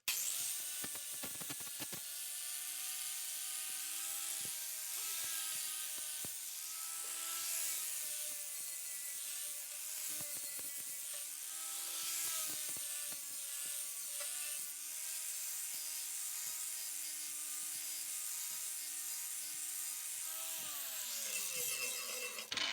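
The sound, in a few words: 4.5 inch angle grinder on cast iron skillet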